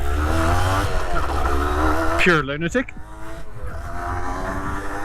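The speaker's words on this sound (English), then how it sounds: "Especially one that's high revving like this" A 1982 Honda MTX 50 dirt bike engine revs high and steady with a buzzing two-stroke drone, briefly rising and falling sharply midway, while someone speaks over it.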